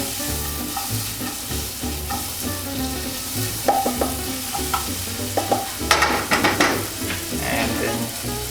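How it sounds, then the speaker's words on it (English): Mushrooms frying in a pan, loud continuous sizzling with bursts of stirring and tossing, scraping and rattling as they are moved around. "I'm gonna throw in all the mushrooms."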